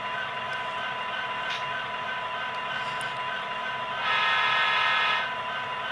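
A Tsunami sound decoder in an Athearn Genesis SD60M BNSF model locomotive gives a steady diesel rumble, with a brief horn blast rising over it near the end, moderately quiet and with no voices.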